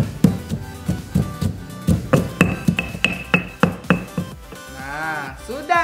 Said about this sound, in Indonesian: bawang merahnya saya tumbuk sekalian deh sahabatku